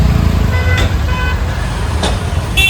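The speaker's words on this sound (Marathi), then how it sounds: "इथं बाई ट्रॅफिक असतंच असतं ब्रिजचं काम चालू ना मेट्रो ब्रिजचं" Busy road traffic beside metro bridge construction, a steady close rumble of engines with several short car horn toots sounding at intervals.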